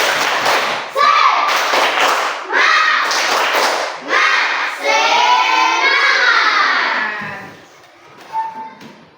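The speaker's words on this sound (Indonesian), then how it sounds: "Tepuk semangat." A classroom of students does a spirit clapping chant, bursts of rhythmic hand claps with thuds mixed into loud group voices, ending with a short pause and a few final claps.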